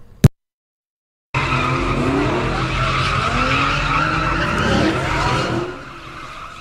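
Cars skid with long, loud tire squeal during an overnight street sideshow on westbound I-80 on the Bay Bridge approaching Treasure Island, a sustained screech after a brief silence, with engine roar beneath and fading slightly near the end.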